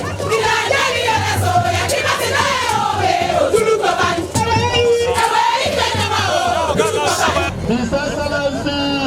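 A mammoth crowd gathers to celebrate the Governor of Kogi State after an APC presidential primary, a loud continuous roar of cheering, shouting and chanting voices close around.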